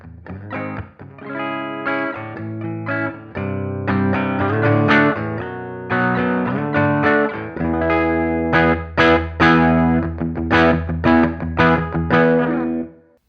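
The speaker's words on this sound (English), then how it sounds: "All right, here's some clean tone." Electric guitar played with a clean tone through a Fender Deluxe Reverb amp, loud, with strummed chords and single notes ringing in a steady rhythm and no talking.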